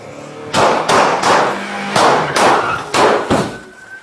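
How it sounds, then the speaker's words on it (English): A volley of about seven loud, sharp gunshots bursts out at irregular intervals during an armed robbery arrest, each one booming with a brief reverberant tail. "Shots fired!"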